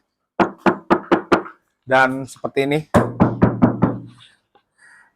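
Four quick hollow knocks on the metal engine hood of a Mazda CX-3, before sound-deadening is fitted, then a person speaks briefly before several more knocks land under the talk.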